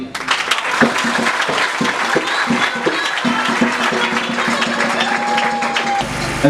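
A crowd claps steadily for several seconds for newly elected bishops, dense and fairly loud, with a sustained tone sounding faintly underneath near the end.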